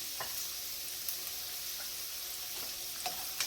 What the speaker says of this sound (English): I'm going to put a little bit of the white onion in it. And let this cook a little bit.